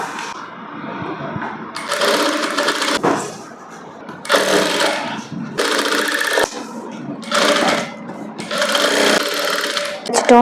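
A sewing machine stitches around a princess-cut blouse panel in loud, close bursts of rapid mechanical whirring, about five runs separated by short pauses of handling and quieter sounds.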